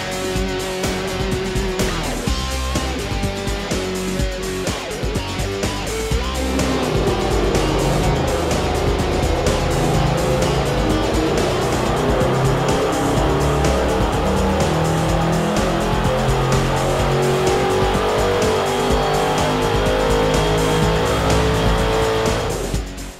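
A car engine of about 560 horsepower runs at full throttle on a dynamometer in a dyno cell during a 5W40 ENEOS motor oil test, giving a loud, sustained roar that climbs steadily in pitch as revs rise, with no talk.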